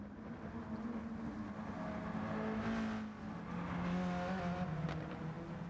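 Race cars in Gran Turismo 7, including a BMW M6 and an Audi TT, drone steadily through a rainy lap, with continuous engine hum and tonal whine at moderate level and no speech.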